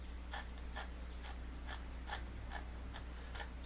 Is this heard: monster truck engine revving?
no